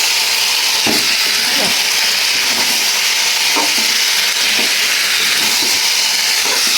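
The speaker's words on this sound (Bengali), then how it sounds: "এই যে দেখো মাংসটা কষানো হচ্ছে।" Meat braises in a hot pan with a loud, steady sizzle and hiss, while a spoon scrapes and stirs in a few distinct strokes close by.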